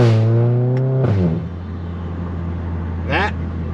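A Volkswagen GTI MK7 revs hard, its engine note climbing steeply for about a second before dropping off, then a second shorter rev burst follows near the end, loud and close with a steady idle hum between.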